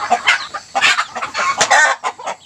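A chicken clucks in quick, uneven bursts close by, loud and alone with no talking.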